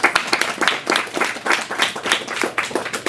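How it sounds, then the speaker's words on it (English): Listeners at a Thiruppavai grand finale applaud the singers and musicians, a brief round of clapping with distinct individual claps up close, moderately loud throughout. "A round of applause for them would be great."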